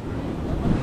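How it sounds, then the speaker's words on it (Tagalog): Big ocean waves at sea, heard from a small boat as a steady loud roar of surf and rushing water mixed with buffeting wind on the microphone. "Laki kasi ng alon mga kabansot."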